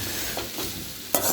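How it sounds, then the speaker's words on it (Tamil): Stirring raw banana puttu with grated coconut in a pan using a ladle handle, soft scraping and shuffling with faint sizzle, a sharper scrape near the end. "அந்த வாழைக்காய் புட்டு கூட போட்டு அந்த ஜல்லிக்கரண்டி காம்பு வச்சு கூட கிண்டலாம்"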